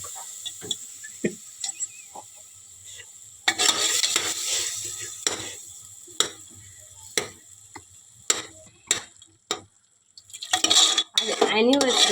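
A phodni tempering of browned onion, coconut, garlic and goda masala for a Sunday mutton curry sizzles in a pan, rising in bursts between sharp clinks and scrapes of a spoon against the metal, close and fairly loud.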